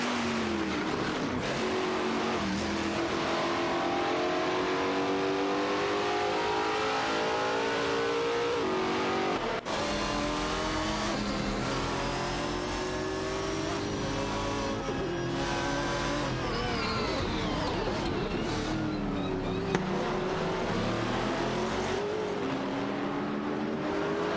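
Jaguar XE22 and Aston Martin DB9 race cars battling on a track, engines revving continuously with rising and falling pitch as they accelerate and shift, loud and sustained throughout with no break.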